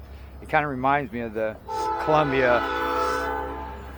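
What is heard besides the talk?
train passing with horn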